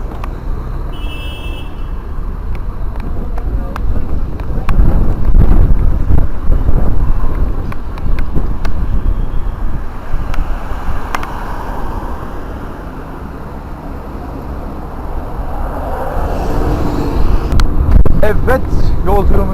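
Loud, blustery headwind buffets the microphone in heavy roaring gusts while cycling on a busy road, with traffic engine rumble beneath and bursts of talk mixed in.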